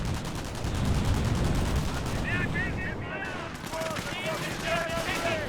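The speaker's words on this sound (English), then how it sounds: "M42 firing away, does get some good suppression there." Dense, continuous battle gunfire from the Company of Heroes 1 strategy game, with an M42 gun firing steadily in rapid bursts amid other weapons, loud throughout and mixed with overlapping battlefield noise.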